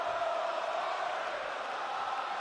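A large arena crowd in WWE 2K20 cheering before a wrestling match, a steady, distant roar of massed voices sustained evenly without breaks.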